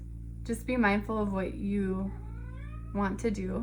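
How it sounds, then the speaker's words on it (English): A house cat meows loudly and close by in drawn-out, wavering cries, overlapping a person talking indoors. "And that is my cat meowing."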